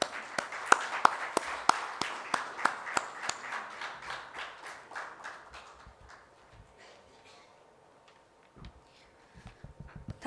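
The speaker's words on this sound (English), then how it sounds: "let's give ourselves a collective round of applause for what we have achieved today" Audience at the National Green Economy Conclave breaking into applause, starting with a few sharp, sparse claps that thicken into a brief patter of clapping and then fade away to near silence, with faint voices near the end.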